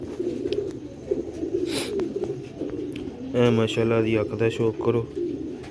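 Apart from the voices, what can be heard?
Sialkoti Ali wala breeder pigeons cooing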